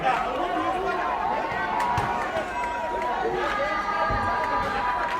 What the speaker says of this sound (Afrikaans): Die skare daar kan die sing lekker.